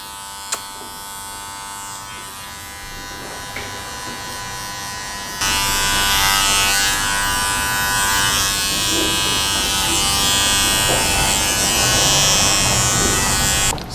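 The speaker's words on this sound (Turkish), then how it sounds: "Berbere beni getireceksin buraya tıraş edeceğiz Murat." Electric clippers shave hair at a barber shop, a steady close buzz that runs throughout and grows noticeably louder and brighter about midway.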